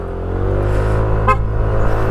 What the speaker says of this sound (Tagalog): Isang busina pagpasok ng Bicol